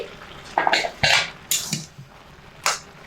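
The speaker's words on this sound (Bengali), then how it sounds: "ঢাকাটা এবার খুলে দিচ্ছি" A metal lid comes off a pot of boiled cabbage with a few sharp clanks and scrapes, separate knocks spaced out over a couple of seconds against a quiet room.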